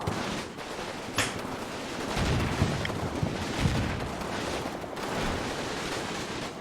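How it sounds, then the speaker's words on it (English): Heavy machine guns fire in a war video game as distant, rumbling bursts mixed with booms and continuous battle noise, sustained across the whole stretch with no voices. "there's heavy machine guns coming over there"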